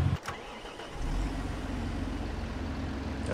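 A Lizard tractor in Farming Simulator 22 starting up, then holding a steady mid-pitched diesel drone, with a quick cough and rev at the start.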